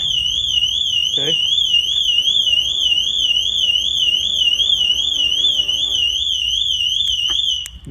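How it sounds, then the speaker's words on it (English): A car alarm set off by its shock sensor after someone kicks a wheel rim wails loudly and continuously, a warbling electronic siren that cycles steadily for the full duration before cutting off near the end. "If anybody walks up and kicks the rim, okay, the alarm will fire off"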